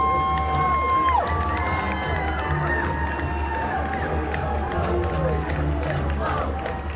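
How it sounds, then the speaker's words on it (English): Crowd of fans cheering and clapping in West Lafayette as the Purdue men's basketball team gets off a plane, a loud steady roar of mixed voices and whoops with whistle-like tones throughout. "Last couple players getting off the plane and fans are clapping, they're cheering, singing the fight song."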